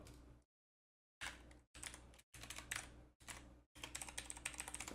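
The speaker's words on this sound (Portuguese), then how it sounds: "Deixa eu digitar aqui, ó." Rapid clicking of computer keyboard keys in dense bursts separated by short pauses, close and fairly loud, with a silent gap near the start and no voices.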